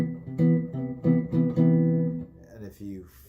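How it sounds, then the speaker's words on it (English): A three-note major seventh chord played on guitar as a short strummed and repeated figure, moderately loud and fading toward the end. "if you play the three note major seventh, it looks like this."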